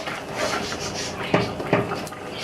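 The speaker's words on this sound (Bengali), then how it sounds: "এবার আমরা একটু নেড়ে ছেড়ে ভালো করে ওপর নিচে করে এইভাবে তরকারিটাকে" Stirring a Bengali-style crab and Malabar spinach curry in a pan, a soft continuous scraping rub with two sharper scrapes of the spoon near the middle, close and fairly loud.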